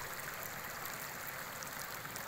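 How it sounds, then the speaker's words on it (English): Small trickling stream at a tranquil ford on a Cornish footpath, a steady soft wash of running water, continuous and fairly close with no voices. "just a little trickling stream like this"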